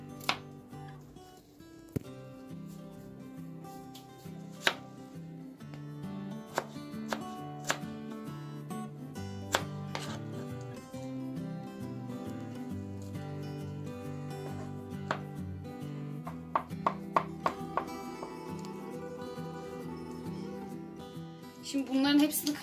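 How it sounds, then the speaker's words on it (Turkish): Hazelnuts and walnuts are chopped with a knife on a board, giving irregular sharp taps and crunches at a moderate level. A voice talks intermittently throughout. "Birkaç tane fındık doğruyoruz."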